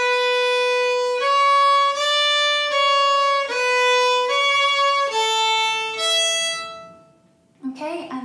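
A solo fiddle plays a Manx tune phrase from Ta Cashen Ersooyl, a series of clear, sustained bowed notes stepping through the melody up close, ending about a second early before a brief voice starts.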